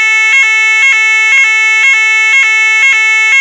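An ESSER fire alarm sounds a loud, piercing electronic tone that repeats in short regular pulses about twice per second, steady and alone with no voices.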